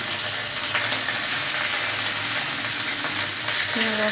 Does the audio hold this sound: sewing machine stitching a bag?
no